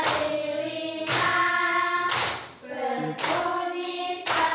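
Five-finger clapping in a children's clapping song, with a few sharp claps spaced about a second apart under a singing voice that carries strong melodic harmonics.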